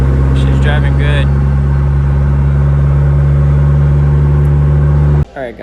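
A 600-horsepower Hyundai Genesis drives along with a steady, loud engine drone and deep exhaust hum that holds for several seconds before cutting off abruptly near the end.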